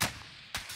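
Gunfire in the video game Warzone: two sharp, loud, close shots about half a second apart, each with a short noisy tail.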